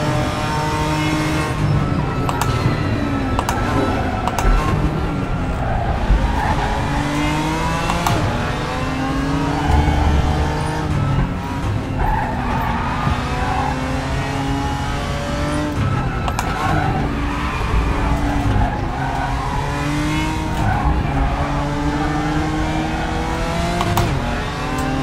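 A BMW M4 GT4 races around the Lausitzring in the RaceRoom sim, its engine revving up and down through gear changes with occasional tire squeal, continuous and close throughout.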